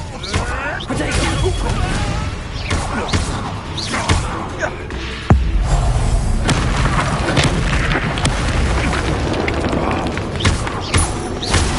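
Booming blasts and crashes from the Confringo spell in Hogwarts Legacy on PS5 burst repeatedly through a busy battle mix, with voices talking over the fighting.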